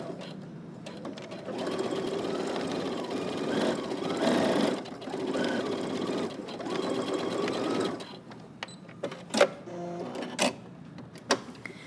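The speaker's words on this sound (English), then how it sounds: "Okay, we're gonna start and back stitch." A sewing machine runs in long bursts, briefly reversing to back stitch along a 5/8-inch seam on suit pants, the motor whirring loudly with short pauses between runs and a few clicks toward the end.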